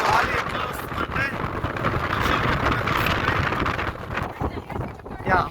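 Strong wind buffets the microphone at Mandalpatti mountain viewpoint in Coorg, a steady, loud roar with gusty swells throughout, with a voice briefly audible beneath it.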